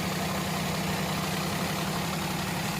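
Car engine with a non-working second-cylinder injector and a cylinder 2 misfire, running and revving steadily, a dense continuous mechanical roar with no pauses or talk.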